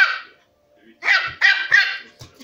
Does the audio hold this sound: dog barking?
yes